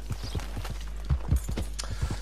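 A horse in Red Dead Redemption 2 walks at a slow, regular clip-clop, hooves thudding softly over a low constant hum, with a couple of slightly louder hoofbeats midway.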